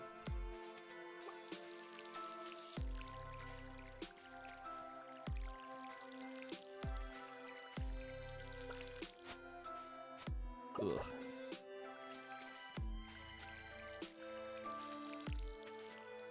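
Repeated watering splashes in the Stardew Valley farming game: short, wet drip-and-squish bursts at a regular pace over soft game music, moderately quiet.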